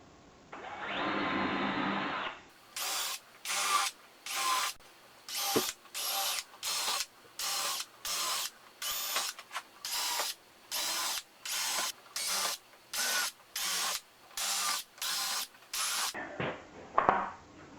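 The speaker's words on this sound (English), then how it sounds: "now to pre-drill all the holes" A power drill whirs in a regular series of short bursts with brief pauses between them, about a dozen repeated pre-drilling runs into wood, close and loud.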